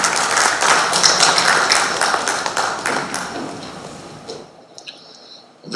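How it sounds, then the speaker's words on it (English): Dense applause from a crowd at an inaugural function in Goa, India fills the air, steady at first and then thinning out and fading to near silence before a final swell. "let's give a resounding round of applause to the young new leaders of India."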